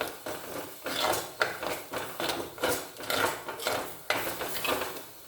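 Onion and masala frying in a pan for a jackfruit masala curry: a spoon scrapes and stirs against the pan in a steady rhythm over a soft sizzle, close up, with no speech.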